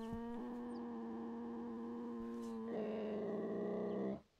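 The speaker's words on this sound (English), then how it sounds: "It's definitely a very angry sounding cat" A lynx in theHunter Classic hunting game lets out a long, sustained tonal growl that deepens and swells near the end before cutting off, close and loud with no talk.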